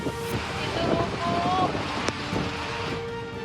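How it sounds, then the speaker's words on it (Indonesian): Gusty wind and a broad rushing wash of heavy rain at Merak Harbour, Cilegon, Banten, before dawn, with a brief sharp knock partway through; constant and fairly loud. "hujan deras disertai angin kencang menerjang Pelabuhan Merak Cilegon, Banten, Jumat dini hari"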